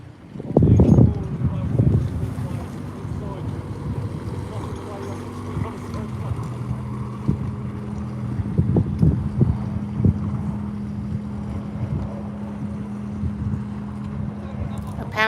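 Hire fleet boats head out past Potter Heigham on a wide waterway, with a low steady engine drone underlaid by wind buffeting the microphone and some nearby clatter and knocks.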